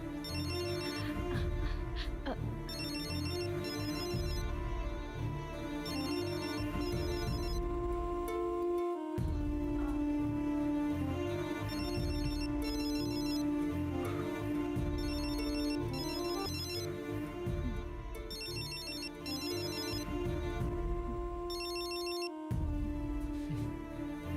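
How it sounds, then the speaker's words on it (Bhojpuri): A mobile phone ringtone plays in a Bhojpuri TV drama scene. A melodic electronic tune loops over and over, clear and fairly loud, for more than twenty seconds, with brief breaks between cycles. "बेटा तोहार फोन बजाता"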